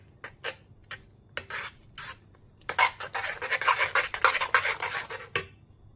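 A henna hair pack and egg stirred together in a bowl, giving soft rhythmic scraping and clinking strokes, sparse and separated at first, then faster and continuous, close and fairly quiet with no talk.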